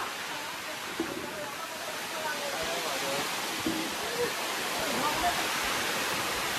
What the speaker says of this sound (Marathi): पाऊस इतका जोरात आलाय ना